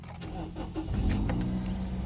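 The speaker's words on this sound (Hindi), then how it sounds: "सबसे पहले गाड़ी को स्टार्ट कर लेते हैं।" A 2018 Toyota Corolla XLi starting up: a steady low engine rumble fills the interior, rising slightly as the engine catches, with faint clicks and a whirring electric note above it.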